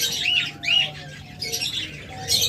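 Pet pigeons kept for sale as a breeding pair, heard as a few close, short raspy squawks and chirps in quick bursts over a quiet background.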